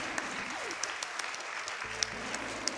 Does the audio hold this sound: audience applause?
yes